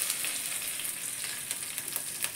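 Kashmiri chili powder frying in hot oil, a soft continuous crackle and sizzle with a few small pops, close and steady over a brief stretch, without speech.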